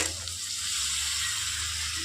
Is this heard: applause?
no